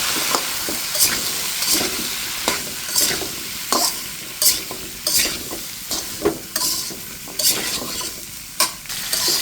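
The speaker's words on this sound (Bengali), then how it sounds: "এখন আমি এগুলোকে ভেজে নেব" Potatoes fry in salted oil in a pan with a constant close sizzle, while regular stirring strokes scrape and spatter through it in sharp bursts about once a second.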